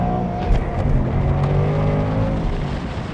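2024 Ford Mustang GT accelerating hard during a 0-60 mph run, a loud, close engine roar climbing steadily in pitch through the gears.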